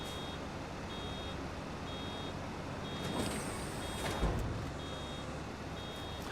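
Vehicle reversing beeps from a truck in Farming Simulator 25, a steady evenly spaced series of short electronic tones repeating throughout over a continuous engine rumble, with a brief louder air-brake-like hiss midway.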